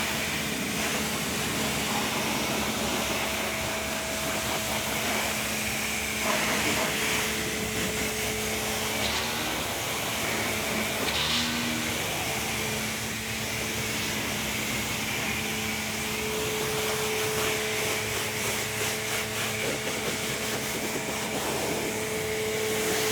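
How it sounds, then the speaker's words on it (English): A Ryobi 1.8 GPM automotive high-flow pressure washer runs with a steady, close motor whine and hum, faint tonal wavering throughout and no pauses. "Seems like it's doing something weird, the pressure washer."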